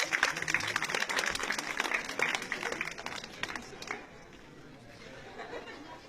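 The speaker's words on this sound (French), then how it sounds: "On applaudit nos James Bond girls quand même, et elles sont douées." An audience at a hypnosis show at a Japan convention in Haguenau claps in a dense burst with chatter mixed in, the applause fading to a quieter murmur toward the end.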